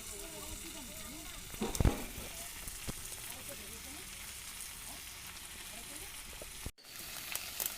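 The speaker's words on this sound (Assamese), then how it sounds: "এনেকৈ 5 মিনিটমান ভাজি" Steady sizzling of boiled potatoes and pork frying in a wok, a soft continuous crackle with occasional clinks and stirring scrapes, briefly cut off near the end.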